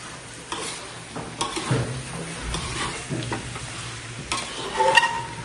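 Mixed offal of liver, heart and lungs fries in a pan while being stirred, with a close sizzle broken by scraping and ticking stirring strokes at an irregular rhythm.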